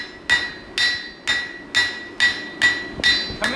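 Heavy hammer blows struck with the heel of the hammer onto metal, seven sharp ringing impacts in a steady rhythm about half a second apart, close and loud with no talk.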